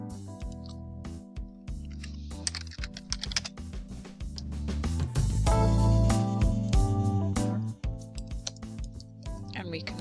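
Rapid keyboard typing as a medication administration record is edited on a computer in a clinical training setting, steady clicking bursts under continuous background music.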